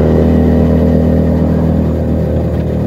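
Keeway SCR 250V motorcycle fitted with a Mavionic aftermarket exhaust, loud and close, its engine droning steadily and throbbing deeply as it rides past.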